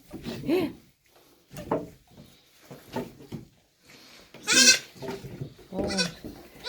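A goat bleats several times in separate loud, wavering cries with pauses between, the sharpest near the end, at a slaughter setting where its legs kick.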